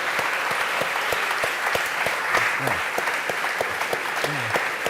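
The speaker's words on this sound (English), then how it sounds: "You applaud too long." Sustained applause from a large lecture audience at the Cambridge Union, thick even clapping at steady volume throughout, with scattered faint vocal sounds beneath it.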